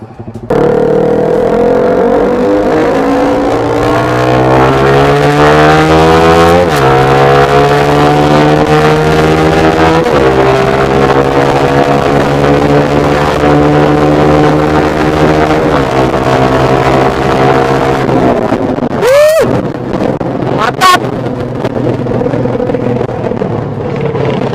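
A Yamaha MX King motorcycle on a test ride, its engine droning loud and close as it revs up through the gears with a few shifts, then a sharp burst of revving near the end, with no talking.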